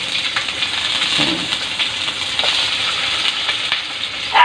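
Fatty pork frying in a small amount of oil, with a steady close sizzle and scattered sharp spatters and pops throughout, no voices.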